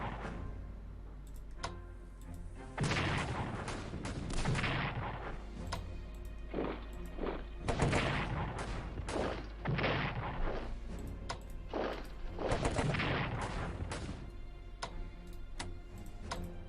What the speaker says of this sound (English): Defensive artillery.